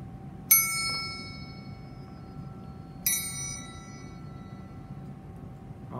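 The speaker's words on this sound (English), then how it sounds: "Strike a triangle with a beater. Touch the triangle while it's ringing." A metal triangle is struck twice with a beater a few seconds apart. Each hit is a bright, shimmering ring that fades slowly, in a quiet room with no talking.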